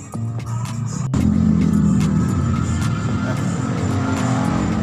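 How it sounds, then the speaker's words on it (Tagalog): A new fuel pump motor on a Yamaha Mio Soul i 125 scooter starts about a second in, then holds a steady, close, low whirring hum to the end. "Dapat po tumunog po yung motor nitong fuel pump na to."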